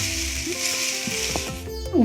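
Chopped kale sizzling steadily in a hot pan for a Kerala-style cabbage and kale thoran, a close, continuous frying hiss with a few soft stirring clunks near the end.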